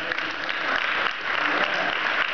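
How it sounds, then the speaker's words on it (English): A church congregation applauds for a brother about to sing, a steady, fairly close stream of clapping hands that carries evenly from start to finish. "Y'all come on, clap your hands for Brother Young Turner."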